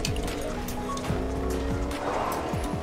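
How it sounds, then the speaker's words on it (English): Car driving in Fortnite, a steady engine hum with repeated falling tire squeals and skids, loud and close, without talk. "I hop in the car"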